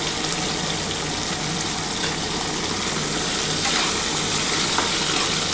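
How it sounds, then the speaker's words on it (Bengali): Bitter gourd frying in oil with salt for shukto, a steady close sizzle and crackle that hisses on without a break, with small bursts of spitting. "একটু সামান্য দেখো বন্ধুরা নুন দিয়ে ভেজে নিচ্ছি।"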